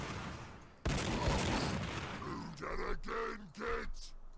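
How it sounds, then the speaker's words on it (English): Assault cannon firing in the Warhammer 40,000 strategy game Sanctus Reach, a sudden loud burst of rapid mechanical fire followed by several groaning, grunting impacts as the barrage hits a group of enemies. "That's an assault cannon versus a group of knobs."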